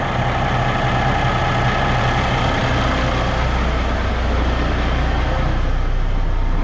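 A 2022 Kenworth W990 truck's diesel engine idles steadily and close by, with a loud, even rumble and no talking; partway through, the tone shifts slightly as the revs rise a little.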